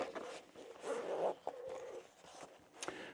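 A zipper is pulled open on a tactical waist pack, a soft, close scratchy rasp in a few short strokes, faint and alone with no talking.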